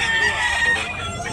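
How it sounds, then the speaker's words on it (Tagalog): A black-legged bullstag rooster with a round head crows once, loud and close, in a strained, rasping call with a faint voice underneath. "Napakagwapong manok mga idol."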